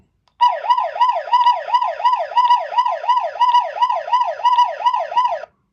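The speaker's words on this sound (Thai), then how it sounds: "เสียงไซเรน" A loud electronic siren from a Vstarcam CS661 security camera wails in a fast, steady up-and-down cycle, repeating evenly for about five seconds before cutting off abruptly.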